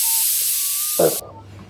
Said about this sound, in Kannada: ಲಿಡ್ ಕ್ಲೋಸ್ ಮಾಡಿ ಒಂದು ವಿಸಿಲ್ ಬೇಯಿಸ್ಕೋಬೇಕಾಗತ್ತೆ